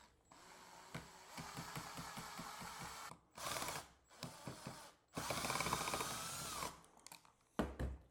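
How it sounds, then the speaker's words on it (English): Screws being backed out of a light switch mounted on a junction box, heard as repeated ratcheting clicks and short mechanical whirring bursts with brief pauses between them, close and moderately loud. "let's go ahead and remove the 2 screws that hold this to the junction box."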